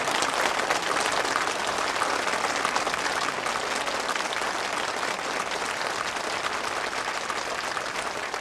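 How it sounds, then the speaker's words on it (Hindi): Applause at a church gathering, a dense, continuous wash of clapping from a crowd, steady and even in loudness throughout. "तालियां।"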